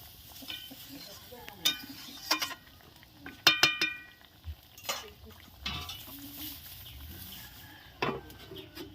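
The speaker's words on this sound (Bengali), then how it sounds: "ভেজে রাখা কোপ্তাগুলো দিয়ে দিচ্ছে উনি হালকা হাতে নেড়ে চেড়ে নিচ্ছে" Fried raw banana koftas are added to a simmering curry and gently stirred, with a few quiet spoon clinks and scrapes against the pot over a faint bubbling background.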